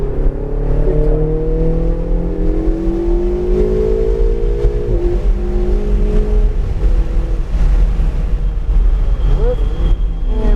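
A race car engine at steady throttle with pitch rising and falling as it lifts, brakes and accelerates along a hill on track, loud and close throughout, with a low constant rumble.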